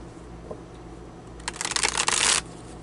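Tarot cards being shuffled: after a quiet stretch with a faint tap, a close, brisk riffling burst of papery flutters runs for about a second, then stops.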